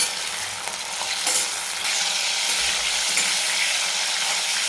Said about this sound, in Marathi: आणि फुल गॅसवर आपण याला 2 मिनिट आपण परतून घेणार आहे.